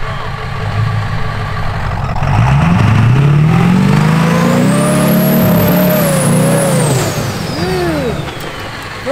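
Ford F-250 with a 7.3 engine in two-wheel drive on a hill climb, a loud engine roar that rises steeply as it accelerates, with a whining pitch sweeping high and then settling, heard close and continuous.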